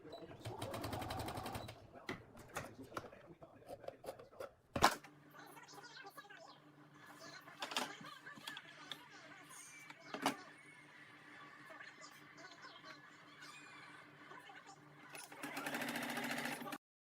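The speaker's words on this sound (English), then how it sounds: "sew the strip onto the top portion of the liner" A sewing machine stitches a plastic snap strip onto the top of a one-piece shower liner, running in steady whirring bursts with short pauses and clicks between passes, close and fairly quiet.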